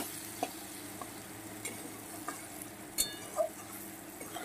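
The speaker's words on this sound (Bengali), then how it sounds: "আমি এটাকে এখনও ভাজতে হবে, ভাজা হয়নি, ভেজে নেব আর একটু" Spices with turmeric and salt fry quietly in a pan for an adole dal, giving a soft, steady sizzle with a few light stirring taps and clicks, faint and without talking.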